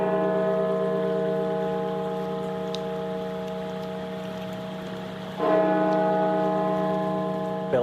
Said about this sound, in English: Bells tolling at the Washington National Cathedral